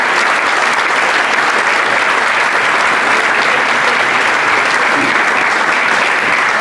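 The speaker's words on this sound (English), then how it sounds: "Big round of applause for Brian, everyone." A football club audience greets a former manager with steady, dense applause that holds at full strength for several seconds, loud and close, with no voices above it.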